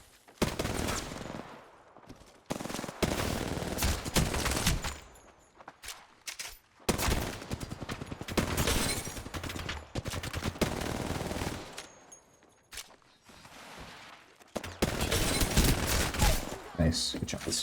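Rapid automatic gunfire in the game Apex Legends rattles in repeated bursts separated by short pauses, loud and close, mixed with other game sounds.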